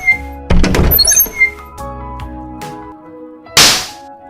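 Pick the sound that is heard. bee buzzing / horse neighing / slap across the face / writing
slap across the face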